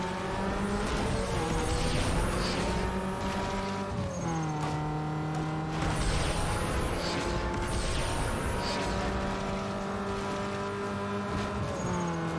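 A car engine screams near its rev limiter in a Need for Speed Underground 2 drag race, loud and continuous, with pitch climbing and dropping at each gear change and a faint tire squeal underneath.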